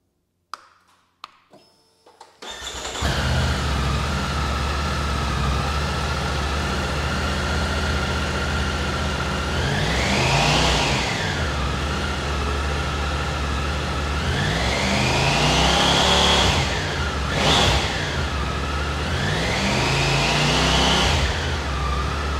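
A 2020 Triumph Tiger 900 GT motorcycle engine starts after a few clicks, then idles steadily close by with several rising and falling revs, including one sharp blip near the end.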